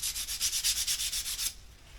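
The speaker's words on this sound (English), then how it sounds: "I'm going to take me a little bit of sandpaper, and I'm going to just gently work on my roundovers" Sandpaper rubbed by hand over the rounded-over edges of a wooden part, about a dozen quick, even back-and-forth strokes in a steady rhythm, close and clear, then stopping near the end.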